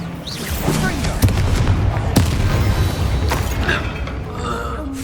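Bombarda explosion spell cast in Hogwarts Legacy, loud booming blasts and sharp impacts amid dense battle noise, with a voice calling out over the fighting.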